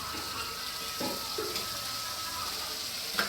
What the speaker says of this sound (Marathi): आणि हा पूर्ण मसाला आता भाजून झालेला आहे, पूर्णपणे फ्राय झालेला आहे।